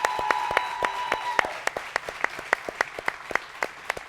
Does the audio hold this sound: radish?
no